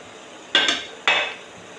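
Two close metallic clanks of a lid being lifted off an idli steamer pot holding payasam dumplings, each a bright ringing scrape with a short fading tail.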